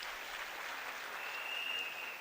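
Audience applause at a university graduation ceremony, a steady, dense wash of clapping that holds evenly for about two seconds, moderately distant and without talk over it.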